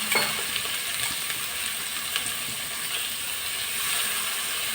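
Sliced onions for a sardine fish curry fry in oil with a close, continuous hissing sizzle and scattered crackles, steady throughout and without speech.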